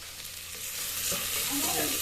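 Tomatoes fry in a hot pan and are stirred, giving a steady close sizzle with scraping and clicking stir strokes building in the second half.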